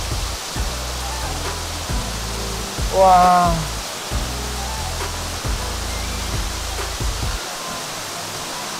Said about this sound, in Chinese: 这个瀑布打下来又好凉哦